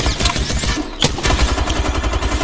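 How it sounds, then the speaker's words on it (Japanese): Rapid bursts of gunfire crackle continuously, dense and loud, with a sharper report standing out near the middle. "この銃声か。 もうその銃声だと思う。"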